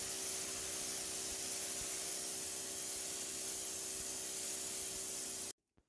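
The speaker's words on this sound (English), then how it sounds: "Starting with the Ava turbo nozzle, you can see that it easily blasts away moss and dirt from this concrete" An Ava pressure washer with a turbo nozzle blasts moss and dirt off concrete in a loud, steady spray hiss that runs unbroken and then cuts off abruptly near the end.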